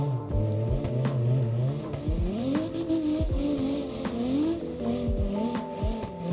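Engine of a drift car in CarX Drift Racing Online, revving and wailing through shifting pitches as it slides around a lap, with tire squeal mixed in, loud and continuous with no talking.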